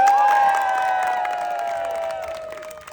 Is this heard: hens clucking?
no